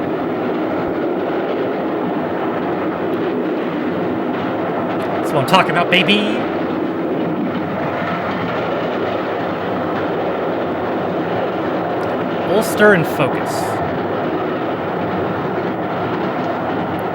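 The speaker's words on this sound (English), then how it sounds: "there's the train" A train rumbles past steadily in Ulster with rhythmic rail clatter and a couple of brief high squeals, while someone talks over it.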